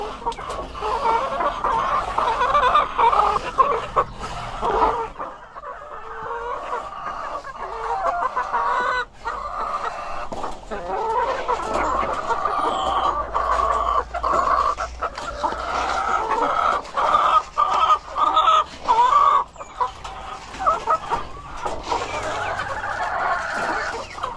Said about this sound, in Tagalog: nagpakain tayo dito sa sa manok natin